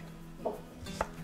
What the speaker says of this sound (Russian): Картофель и цукини нарезаю тонкой соломкой.